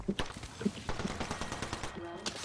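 Rapid gunfire in the battle-royale shooter Apex Legends, a burst of close, sharp shots in quick succession, with a voice speaking over the shooting.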